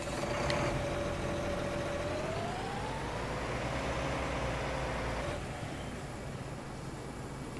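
A tractor engine idles steadily in Farming Simulator 19, a continuous loud low rumble with a rising whine partway through that drops off near the end.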